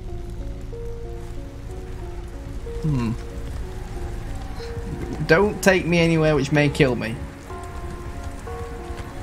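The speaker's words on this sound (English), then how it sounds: "Right, a bit of hail." Hail pattering steadily in the video game Subnautica Below Zero, a continuous drumming hiss of ice on surfaces under a tonal hum, with a person talking over it partway through.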